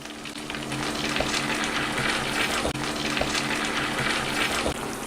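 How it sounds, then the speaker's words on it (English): Ladle of starchy pasta cooking water poured into a hot lemon sauce, producing a steady bubbling sizzle and gush, close and fairly loud with no speech. "So I take a ladle and add a little bit of the water in which my pasta is cooking."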